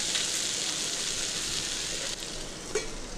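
Mixed vegetables with ground coriander, cumin and chili powder sizzle steadily in a pan for a Bengali mixed vegetable curry, with a soft knock or stir near the end.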